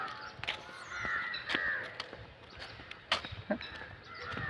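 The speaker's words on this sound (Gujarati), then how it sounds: "કાગડા મિત્રો એમ બહુ વધી ગયા છે દાદા" Several crows cawing at a distance at the Tulsishyam temple site, overlapping harsh calls scattered over soft background noise, with a few sharp knocks.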